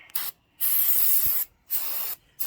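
Three quick bursts of cleaner hiss from a spray bottle onto a hydraulic jack from an International 4700 with a 7.3 engine. The sprays are close and loud, with short gaps between them.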